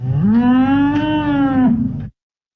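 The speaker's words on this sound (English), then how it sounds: "Was it the cow who almost fell in when she tilted the boat and made such a din?" A single loud, close cow moo lasts about two seconds, rising slightly and then cutting off abruptly into silence.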